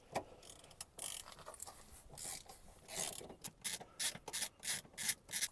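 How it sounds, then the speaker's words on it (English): A ratchet loosening E12 front seat bolts in a car, clicking in short bursts close by that grow louder and quicker toward the end, with quiet gaps between strokes. "We'll start by removing our two front seat bolts"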